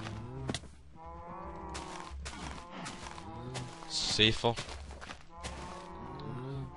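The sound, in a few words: cows mooing in video game Minecraft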